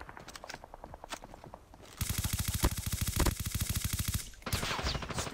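Rapid automatic gunfire in the Call of Duty Mobile shooter game, an opening stretch of lighter repeated shots followed by a loud sustained burst, then a short pause and more firing.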